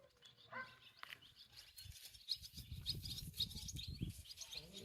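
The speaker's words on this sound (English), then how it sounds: "Those poor birds are just totally confused." Small birds chirp and tweet faintly in the distance during a total solar eclipse in Arkansas, over a low rumbling background, with scattered short calls throughout.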